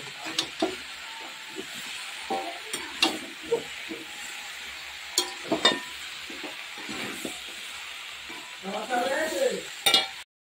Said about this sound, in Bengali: তো আমি আস্তে আস্তে কষাচ্ছি